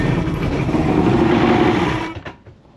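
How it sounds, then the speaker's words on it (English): A 1974 Thunderbird T-190 boat's outboard motor runs with a loud, steady buzzing drone for about two seconds, then cuts off abruptly, leaving a few faint rattles and quiet. "and the motor runs."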